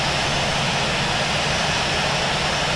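An airliner's jet engines roar steadily and loudly while taxiing to parking in the flight simulator Infinite Flight, a constant broadband whine and rumble with no break or voices.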